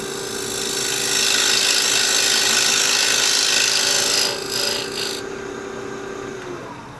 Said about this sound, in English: A little quick relief cut here.